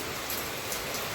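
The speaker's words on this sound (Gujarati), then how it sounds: "અમે લોકો ઘરે પહોંચ્યા ને વરસાદ આવ્યો" Rain falling outside a home, a steady, dense hiss with no breaks and no voices over the short stretch.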